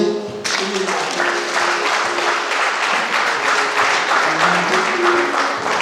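Guests applaud at a church wedding, a dense, loud burst of many hands clapping that starts abruptly and holds steady to the end with no speech over it.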